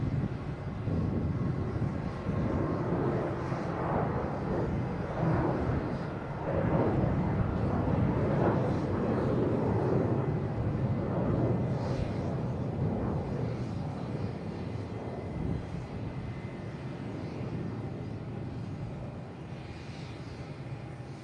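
A Delta Airbus A321 jet airliner bound for Atlanta at Boston Logan International Airport, a moderate rumbling engine roar that peaks early and slowly fades as it moves away.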